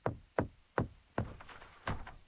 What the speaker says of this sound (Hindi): फिर उसने हिम्मत करके दरवाजा खटखटाया।